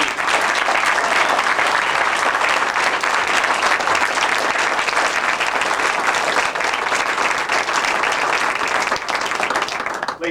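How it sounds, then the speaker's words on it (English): Loud, sustained audience applause fills a Pentagon awards ceremony for Army journalism awardees, a dense steady roar of many hands clapping without pause until it fades slightly at the very end. "more round of applause for all of our awardees."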